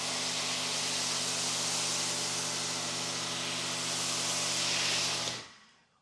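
A Now Wash foam cannon fitted with the economizer sprays soap solution onto a car, giving a loud, steady pressurized hiss over a low pump hum for about five seconds before cutting off abruptly.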